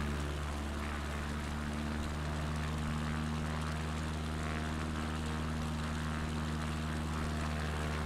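A propeller airplane drones overhead near the UK coast, a loud, steady engine hum that holds for the whole stretch with no talking.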